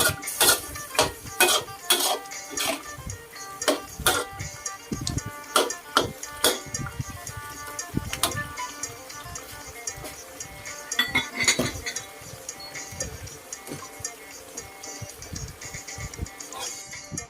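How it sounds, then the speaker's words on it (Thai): Young eggplant being stir-fried in a pan for a spicy pork meatball stir-fry, with repeated metallic clinks and scrapes of a utensil against the pan, busy at first and then lighter and more spaced out. "ให้นำมะเขืออ่อนใส่ลงไปได้เลยค่ะ แล้วผัดต่อไป"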